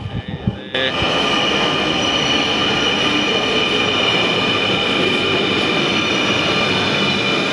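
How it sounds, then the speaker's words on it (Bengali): A Dhaka metro rail train pulls into the station with a loud, sustained roar and high whining wheel squeal, close and continuous, with quiet crowd noise on the platform just before it arrives. "মেট্রো এসে গেছে, তো এখনই আমরা উঠে পড়ব।"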